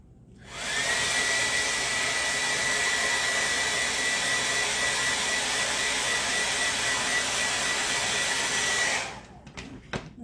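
Hair dryer blowing on a freshly applied Chalk Couture transfer lying on a towel, a loud steady roaring whoosh for about eight seconds that cuts off abruptly, followed by a few handling clicks.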